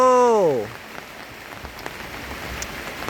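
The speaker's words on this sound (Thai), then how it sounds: "ฝนเริ่มมาครับพี่น้องครับตกตั้งแต่เสาครับ" Rain starting to fall outdoors in rural Thailand, a faint, even patter of drops with scattered louder taps. A brief tonal sweep is heard at the very start.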